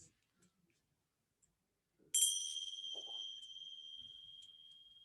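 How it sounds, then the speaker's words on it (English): A single struck bell, such as a meditation singing bowl or chime, rings out clearly at the close of a yoga practice, its bright tone sustaining and slowly fading over several seconds in an otherwise quiet room. "the sound of the bell marks the close of our practice today"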